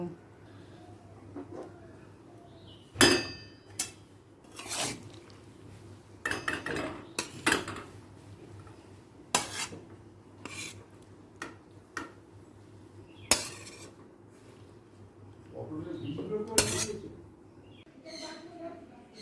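Cooked potato and pointed gourd curry being moved into another pot: a series of sharp metal clinks and scrapes of a spoon against cookware, irregular and close, with quieter stirring and scraping between them.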